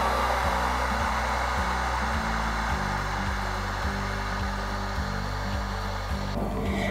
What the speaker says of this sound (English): I'm going to show you that with my blow dryer